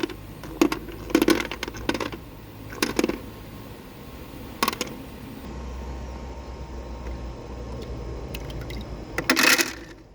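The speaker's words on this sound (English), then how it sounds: "Ice cubes delivered into the basket" Ice cubes from a portable ice maker running on an outdoor power station clatter into the basket in a few scattered bursts of sharp clinks over a steady motor hum.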